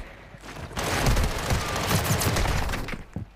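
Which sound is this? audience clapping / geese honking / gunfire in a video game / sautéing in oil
gunfire in a video game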